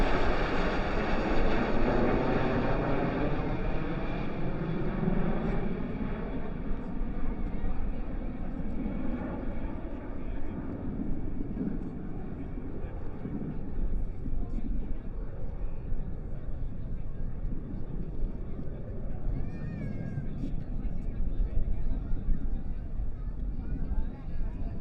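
F-16 fighter jets roar overhead at an air show, a loud sweeping pass fading into a steady rumble, with someone talking over it throughout.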